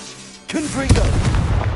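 Confringo fire spell exploding on pumpkins in Hogwarts Legacy, a sudden loud burst followed by rumbling, cannon-like booms, with a brief voiced cry riding over the onset.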